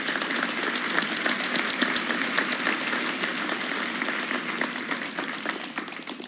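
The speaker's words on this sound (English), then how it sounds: "Let's give yourself a big round of applause." Sustained applause from a keynote audience at the Atlas Camp 2018 conference, a dense, even wash of many hands clapping that holds steady throughout with no voices over it.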